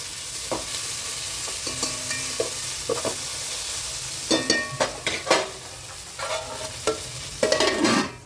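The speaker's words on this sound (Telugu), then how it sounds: "దోరగా వేగాలండి." Ground garam masala, shahjeera, cloves, cinnamon and cardamom with garlic paste fry in a pan for vegetable pulao, with a steady sizzle broken by repeated scraping stirs that grow louder toward the end.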